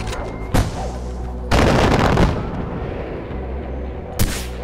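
Gunfire in the video game Far Cry 4, a few heavy booming shots spaced apart, one sustained louder burst in the middle, over a constant low background rumble.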